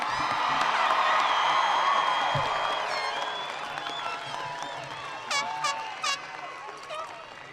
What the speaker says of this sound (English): give a round of applause, a loud one, for our class of